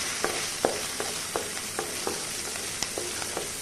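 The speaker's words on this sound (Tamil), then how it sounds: "இந்த வெங்காயத்தை நல்லா வதக்கிடலாம்." Small onions and curry leaves sauté in a pan for a mutton fat fry. A constant crackling sizzle sits under regular scraping strokes of a spatula, about three each second, close by.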